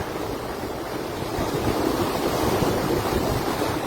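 Strong, rushing water overflows La Mesa Dam in a dense, continuous roar that grows a little louder partway through, heard close and alone.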